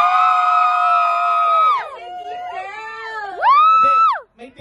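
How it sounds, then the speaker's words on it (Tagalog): Team girl crowd at a gender reveal party, several voices letting out long, loud, high-pitched shrieks and shouts that rise and fall together before cutting off. "Parang mas malakas sigaw ng mga team girl."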